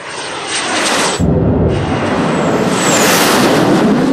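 A Pulqui jet aircraft flies through a military factory hangar, entering one door and leaving by the other: a loud, continuous engine roar that briefly dips, then surges back and sweeps past close by, with no voices.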